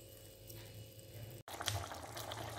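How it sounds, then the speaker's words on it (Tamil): Chutney ingredients sizzle in hot oil in a pan, a steady frying hiss with a brief gap midway, after which a brighter, louder crackle continues close by. "நல்லா சுருளாக வதகணும்னு சொல்லுவா இல்லையா, அந்த மாதிரி இது வதகணும்"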